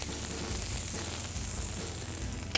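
Lamb loin with herbs searing in oil in a hot pan, a close, steady sizzle and crackle of fat that holds throughout, then a small sharp knock right at the end.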